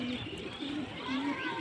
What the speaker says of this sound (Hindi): ये कलंच कबूतरी है